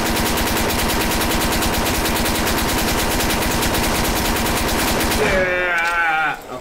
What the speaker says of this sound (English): A Tommy gun, clearly Tommy gun.